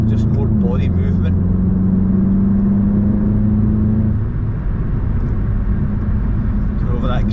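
A VW Mk7.5 Golf GTI TCR accelerates at full throttle, its engine note climbing steadily in pitch from inside the car while someone talks over it.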